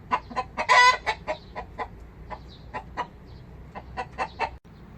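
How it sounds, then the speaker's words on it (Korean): Chickens raised beside a factory cluck in a rapid, uneven series of short calls, a few louder squawks standing out near the start, heard from close by with no talking. "공장 옆으로 이렇게 닭을 키우고 있네요."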